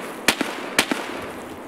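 Two sharp grenade blasts in the video game Escape From Tarkov, each a short, fairly close crack with a brief trailing echo, spaced about half a second apart with no voices.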